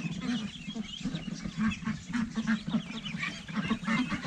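Young ducklings peep and chirp in a small huddle, soft overlapping calls repeating close by, fairly quiet with no talking.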